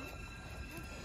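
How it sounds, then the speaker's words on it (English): A train pulls up at a station where riders are boarding, giving a steady rail rumble with faint high wheel squeal that runs continuously through the short moment. "train pulling up."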